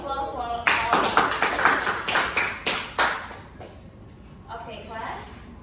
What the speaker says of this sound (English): Give applause for all.